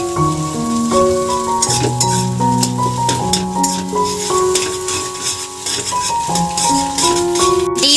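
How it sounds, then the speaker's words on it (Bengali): An egg fries in a pan while chowmein is being prepared, a constant close sizzle with occasional stirring clinks, running under a melodic music track throughout. "এবার ডিম ভাজা হচ্ছে,"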